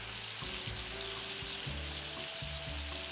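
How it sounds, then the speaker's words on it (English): Butter added to hot oil in a pan for cooking steak sizzles and crackles steadily up close, a continuous loud frying hiss with a few soft stirring touches. "you're gonna start adding some of your butter into the oil, just like that"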